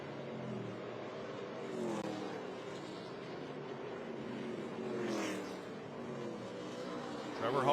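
ARCA Menards Series West race cars at Irwindale Event Center crossing the start-finish line, a moderate engine drone with a couple of swells as cars go by, under continuous race commentary.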